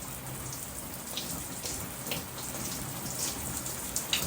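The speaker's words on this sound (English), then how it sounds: "And then I just rinse it off with water." Steady splashing of water with soft trickles and drips, continuous and close, no voices.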